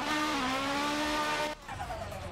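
A car drifting in a video game running at a choppy 15 FPS, its engine droning with a steady whining tone and tires squealing loudly before the sound cuts abruptly to a lower, rougher skid.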